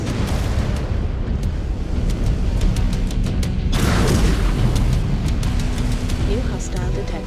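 Missile explosions in the mech combat video game MechWarrior 5: Clans, a loud, continuous rumbling roar of blasts with a heavier boom midway, layered with sharp crackles and game sounds throughout.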